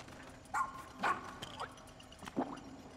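A dog character in the video game Pikmin 4 gives several short, soft yips and whimpering barks, spaced irregularly over a few seconds against quiet game background sound.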